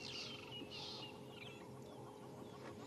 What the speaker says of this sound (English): a grey lory, or otherwise known as the go-away bird